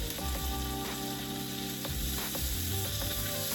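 Steak searing in a hot pan, a steady close sizzle and crackle of frying meat throughout, with faint scraping and light clinks of utensils against the pan.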